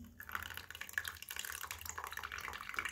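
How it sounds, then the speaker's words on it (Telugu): A faint, close trickle as a little water is poured into a red henna mix, a short soft splashing pour lasting a few seconds. "కొన్ని వాటర్ వేద్దాం."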